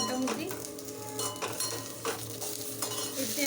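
Eggplant frying in a pan with a steady sizzle, broken by repeated scraping strokes of a spatula and light clinks against the pan, with a low hum running beneath.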